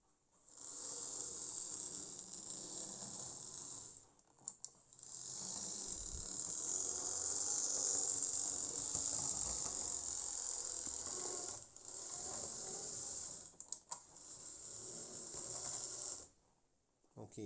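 A Lima 0-4-0 model locomotive with brass wheels runs along model railway track, giving a steady, fairly loud mechanical whirr with brief dropouts as it crosses an infill frog.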